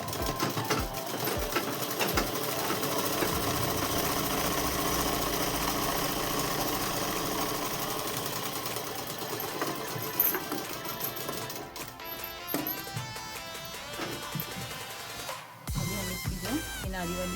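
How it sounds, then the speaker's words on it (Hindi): A sewing machine runs steadily while stitching a shalwar, a continuous mechanical whir with a few pauses and clicks near the end. "अब हम इसको भी एक दाग टिप की सिलाई लगाएंगे।"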